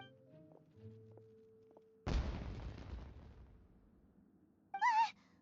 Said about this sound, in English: Fireworks! Huh? Was that an explosion?